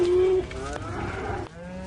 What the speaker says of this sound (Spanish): En este establo hay un rebaño de vacas que la evolución nunca habría podido crear.